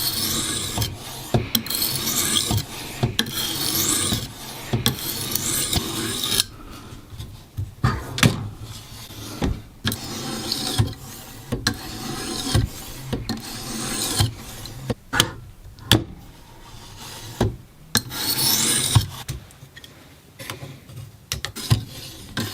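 A knife blade is drawn across a coarse stone on a TSProf KO2 guided sharpener, making repeated rasping strokes in uneven bursts with short pauses and occasional clicks of the rig, close and with no voices.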